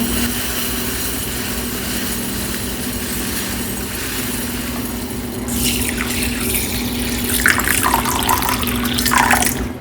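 Tap water running steadily into a vessel to soak sago, a continuous rushing stream that grows louder and splashier in the second half.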